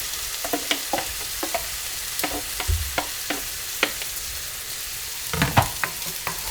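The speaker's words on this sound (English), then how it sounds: "We're just going to dump them in our skillet." Vegetables for a kielbasa stir-fry sizzle in a hot skillet, a steady close frying hiss broken by sharp crackles and pops from spattering oil.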